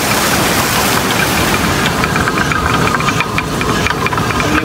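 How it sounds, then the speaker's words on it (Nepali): A water-powered stone mill (ghatta) grinding maize in Darchula, Nepal, runs with a steady, loud mechanical rumble and continuous rattling knock, with no one talking. "यो पुरै काम गरिरहेको छ। मकै पिँदिरहेको छ, यसले मकै गइरहेको छ।"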